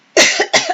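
Two sharp, close coughs in quick succession, each a harsh burst that trails off, standing alone with no speech around them.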